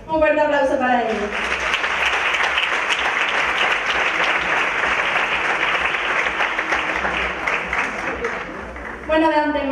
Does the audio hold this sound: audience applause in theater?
yes